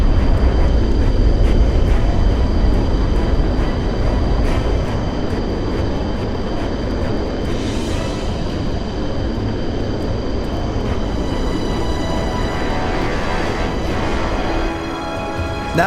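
Aircraft engines roar continuously in a Roblox Aeronautica air battle between a hypersonic bomber and fighter planes, a loud, dense, unbroken rumble with brief whooshing swells of passing jets and no voices.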